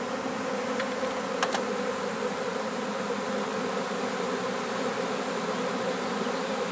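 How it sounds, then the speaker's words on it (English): A honeybee swarm takes to the air and flies into a box, a steady, dense buzzing hum from many bees filling the whole stretch at moderate level, with a couple of brief sharper tones near the start and no voices. "Yeah, they're all in the air now. Yep. And we'll see if they catch the scent. I see a lot of bees moving into the box."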